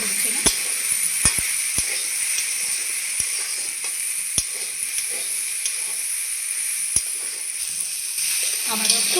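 Vegetables frying in a pan with turmeric and cumin powder for a green banana and small fish curry, a steady close hiss with scattered sharp clicks of a spoon against the pan throughout.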